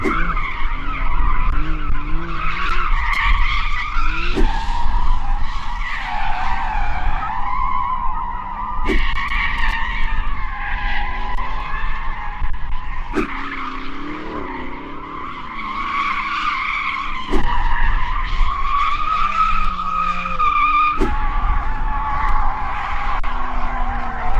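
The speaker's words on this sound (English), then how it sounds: "There's one more thing we need to do before we race, actually. That's warm the tyres." Several Porsche cars, including a Macan GTS, spin their tyres in a loud sustained tyre squeal and skid before a drag race, with engines revving underneath and sharp bursts recurring every few seconds.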